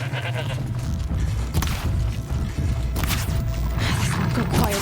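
In Horizon Zero Dawn: The Frozen Wilds, a goat bleats in brief bursts over a steady low rumble of game sound and mechanical noise, fairly loud and clear.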